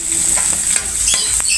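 Chopped onion hits a hot pan on top of garlic already browning for a sauté, giving a steady close sizzle broken by a few soft scrapes from stirring.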